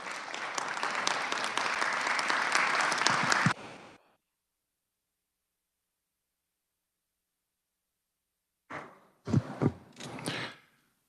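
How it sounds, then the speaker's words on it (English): Applause for visiting guests in the Kansas Senate chamber, a steady dense clapping burst lasting a few seconds that cuts off into silence, followed later by a few louder scattered thumps and brief sounds near the end. "if we could just give them a round of applause for coming in and taking their spring break today"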